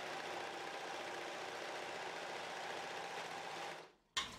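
A sewing machine stitches a fabric seam with a ribbon caught in it, for a reusable cloth advent calendar; a steady, continuous mechanical whir runs for about four seconds, then stops briefly and restarts.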